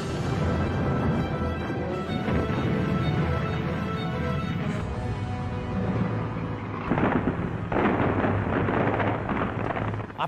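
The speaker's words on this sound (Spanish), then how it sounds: "las tropas alemanas oyen cañonazos distantes procedentes del noroeste y del sur" Distant cannon fire from the Soviet counteroffensive at Stalingrad: a dense, continuous roar of rumbling booms layered with a low drone, with a few sharper bursts later on and no voices.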